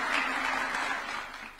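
A room of guests at a State House meeting between the Kenyan president and Nairobi United FC applauds a goalkeeper, a brief burst of clapping that starts strong and tapers off within two seconds.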